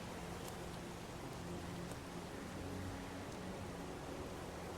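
Steady rain in the video game Heavy Rain, a soft, even hiss of falling drops with faint pattering, continuous and quiet, with no talk over it.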